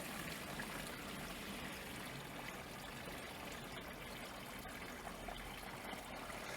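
Water poured through spun bond fabric in a hardscape demonstration trickles and splashes steadily, a continuous soft wash of liquid noise with no talk.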